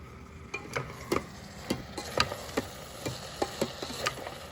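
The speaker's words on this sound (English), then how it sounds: "So I'm just going to be sauteing this till the onions turn translucent" Onions sautéing in an Instant Pot for arrabbiata sauce, heard as a steady run of light, evenly spaced ticks and taps of a spoon against the pot over a faint sizzle, close but quiet.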